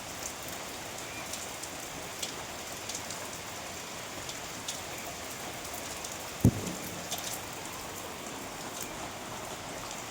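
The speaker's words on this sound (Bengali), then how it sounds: "কি বৃষ্টি" Heavy rain pours down in a steady, dense hiss of drops striking surfaces, with one sharp knock partway through and no voices.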